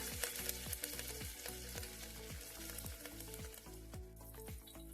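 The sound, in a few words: green chili pieces and curry leaves sizzling in hot oil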